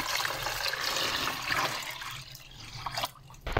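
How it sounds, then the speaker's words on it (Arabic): Water poured into a homemade sugar syrup mixture, a steady splashing pour that runs for about three seconds and then tapers off with a few drips, heard alone. "وانزل هنا كده عندي بالميه"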